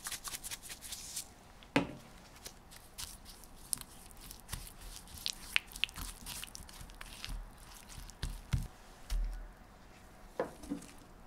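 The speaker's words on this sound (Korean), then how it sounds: "녹인 버터, 땅콩 버터, 설탕, 소금에 넣고 조물조물 묻혀주세요" Hands knead shredded dried squid with melted butter, peanut butter, sugar and salt, making soft, sticky squishing and rustling sounds in irregular close bursts.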